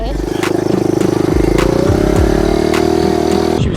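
A small dirt bike engine, likely a Kawasaki KLX110R or Rawrr Mantis Mini R ridden by a rider in new boots, drones steadily up close while gears are struggled through, with pitch shifts and clunks near the end; a voice can be heard over it.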